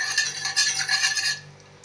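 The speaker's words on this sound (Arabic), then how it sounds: "اقلب كده لغايه لما السكر بتاعي يتكرمل" Sugar stirred in a pan to caramelize, giving soft scraping and clinking of a spoon against the pan for just under two seconds, fairly close and with no talking.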